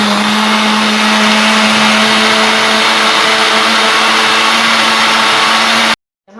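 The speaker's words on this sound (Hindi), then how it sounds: "पहले मैं इसे अच्छी तरह से मिक्स करूँगी।" Kitchen blender whirring loudly and steadily as it mixes oranges with water for fresh orange juice, a constant high motor drone for about six seconds before abruptly stopping.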